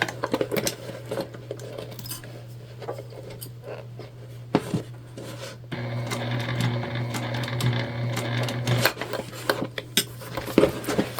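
A sewing machine stitches a large bag, its needle rattling in uneven bursts mixed with clicks and handling noises, running more steadily in the second half, close by.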